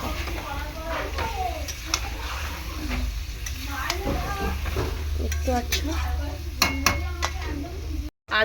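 Bombay duck fish is stirred and sautéed in spicy oil in a pan, giving a steady sizzle with scraping and clinking of the utensil against the pan under intermittent talk.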